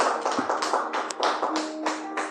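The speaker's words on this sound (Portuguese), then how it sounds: "Palmas para Jesus" A church congregation clapping together for Jesus during a worship service, a quick run of rhythmic, fairly close claps with a faint sustained musical tone underneath.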